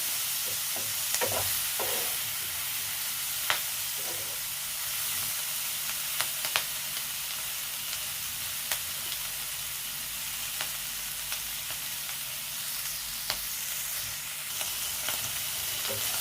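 Steady sizzling of onion stalks frying in a pan, with occasional sharp clicks and scrapes of stirring throughout.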